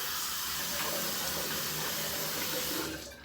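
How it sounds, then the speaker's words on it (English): Water from a tap runs steadily over a razor blade being rinsed, a continuous close hiss and splash lasting about three seconds before tapering off at the end. "Let's go ahead and rinse off."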